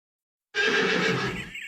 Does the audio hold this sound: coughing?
no